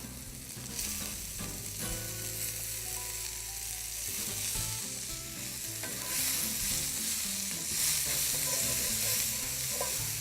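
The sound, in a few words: Hirabara spinach sizzling in a pan with mushroom steak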